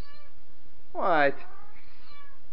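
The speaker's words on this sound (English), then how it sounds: "Cat's freaking out." A cat lets out a single loud, rising-and-falling meow close by, with a brief spoken word just after it.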